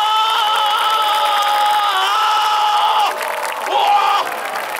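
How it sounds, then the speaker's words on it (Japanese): A street performance audience at an outdoor festival cheers and whoops in a sustained wash of crowd noise, with shouted voices rising over it near the end. "拍手をどうぞ。"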